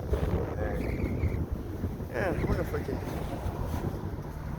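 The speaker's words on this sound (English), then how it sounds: "Oh, excuse the wind up there. It is windy here in Frackville." Strong wind buffets the microphone outdoors in Frackville, a steady low roar and gusting rumble under a voice as he talks throughout.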